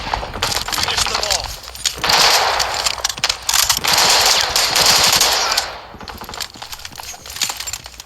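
Rapid automatic gunfire from the mobile shooter Delta Force Mobile comes in dense, loud bursts that swell and pause over a gritty game backdrop, with a brief lull near the end.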